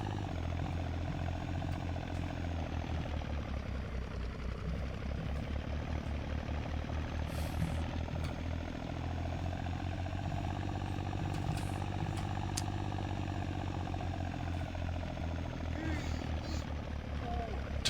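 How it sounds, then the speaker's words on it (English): A tractor engine in the My Winter Car video game, driving on ice, drones low and steady with a pulsing rumble throughout, while a person talks over it intermittently. "Tractor doesn't turn very well in the ice."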